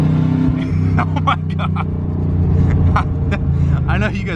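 A Corvette running with no exhaust revs loudly in a deep, rough rumble that rises and falls. A person speaks briefly over the engine.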